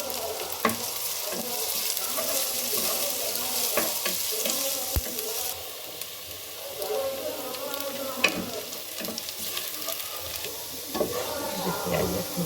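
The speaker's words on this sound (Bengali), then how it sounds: "পেঁয়াজ ভাজা ভাজা হয়ে আসছে" Onions frying in oil in a wok, a steady close sizzle with occasional clinks and scrapes of a spatula stirring through the pan.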